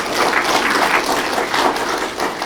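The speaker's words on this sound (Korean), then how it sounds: "다시 한번 힘찬 박수 부탁드립니다." Audience applause at an award ceremony, a brisk burst of many hands clapping close and loud, swelling slightly in waves before easing off near the end.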